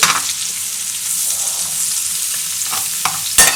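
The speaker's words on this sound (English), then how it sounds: "So now we let the butter, oil, thyme and garlic mix here" Butter, oil, thyme and garlic sizzle steadily in a pan while steak is being cooked, a continuous close frying hiss with a couple of brief clinks near the end.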